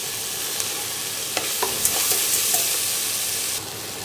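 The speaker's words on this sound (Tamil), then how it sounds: "இப்போ வெங்காயம் நல்லா வதங்கியிருக்கு" Onions frying in a pan after lentils go in, a steady close sizzle with brief stirring clinks and scrapes, ending with the sizzle dropping off slightly toward the end.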